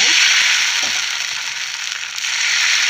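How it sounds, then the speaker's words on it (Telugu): Dosa batter hits a hot pan and sizzles in a loud, steady hiss that holds throughout, close up and with no talk. "నేను ఇప్పుడు అట్లు పిండి వేసుకుంటున్నాం అన్నమాట"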